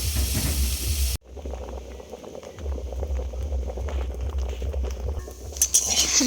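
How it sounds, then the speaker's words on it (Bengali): Steady sizzling and bubbling of raw plantain frying in hot oil, continuous and close, with a brief sharp cutoff early on and faint clinks. "চলো কাঁচকলাগুলো ভেজে নিই"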